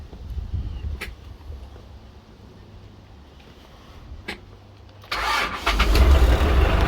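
A chopped Mitsubishi Pajero with a 4D56T turbo diesel cranks and fires up near the end, jumping into a loud, rough idle after a stretch of quieter background rumble and a few clicks.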